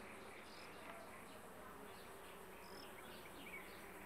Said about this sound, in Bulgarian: Може би чувате приятният бъз, жужукането на всички опрашители, които се намират в момента на градината Пчелен рай